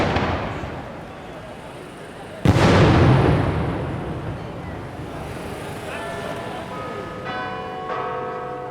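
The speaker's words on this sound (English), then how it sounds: "Fire maroon, fire maroon." A maroon signal firework is fired before a building demolition blowdown, making one sharp, loud outdoor bang that rings out and decays slowly, with background noise and faint tonal sounds afterward.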